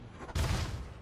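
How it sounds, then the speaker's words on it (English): A grenade exploding in Elite Dangerous, a single sudden low blast after a brief quiet moment, booming and then decaying over most of a second, with no voices. "Oh, grenade."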